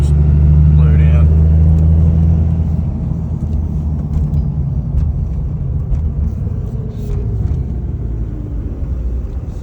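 A 2001 Dodge Ram 2500 second-generation Cummins diesel pickup drives with a deep, steady engine rumble and road noise, heavier in the first few seconds, while a person talks over it.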